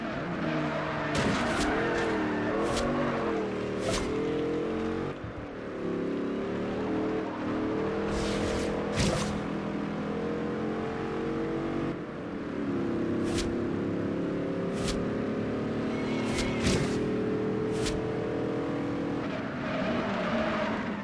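Race car engines drone and rev continuously in a Forza Horizon 2 race with a Maserati Ghibli, pitch climbing and falling through gear changes, with sharp clicks and impacts scattered throughout and no talking.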